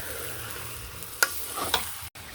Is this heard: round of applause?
no